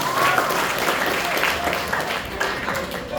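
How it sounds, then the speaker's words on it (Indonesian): A talk show audience claps steadily for two guest speakers, a dense wash of applause from start to finish with no break. "Aplaus dulu untuk Mbak Muna dan Mbak Vina"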